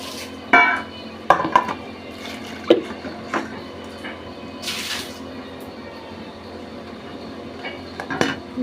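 Dishes, pots and pans being washed by hand at home, with scattered sharp clinks and clatters of metal and crockery, trickling water and quieter scraping between, close and irregular.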